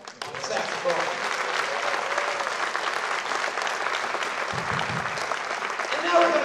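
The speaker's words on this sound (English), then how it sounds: "Please give a round of applause for our most valuable player of the spring semester, Mr. Adarsh Mantu, on the saxophone." Dense, steady applause from a concert audience at a jazz performance greets the saxophonist, sustained throughout with a swell at the end.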